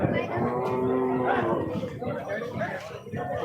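A cow gives a loud, drawn-out moo amid a busy crowd of chattering voices at an outdoor cattle market in Varkhedi.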